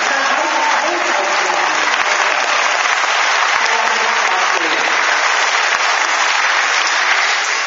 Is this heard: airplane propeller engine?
no